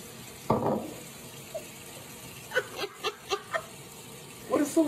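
A tap runs and splashes water into a basin, starting with a burst, followed by a series of short rhythmic splashes and gurgles, fairly close but soft.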